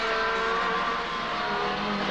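Touring car racing at Winton circuit in the 1990 Australian Touring Car Championship: a steady, loud engine roar with a high whine, sustained for two seconds with no talk.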